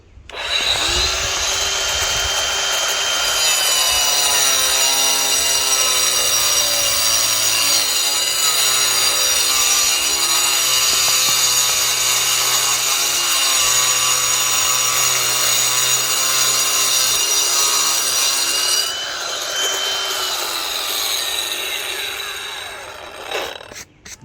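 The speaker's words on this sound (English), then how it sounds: "I'm just gonna do a plunge right in there." A Ridgid Octane 18V brushless 4.5-inch angle grinder plunge cuts with its blade, a loud, steady high whine that holds for about twenty seconds before winding down.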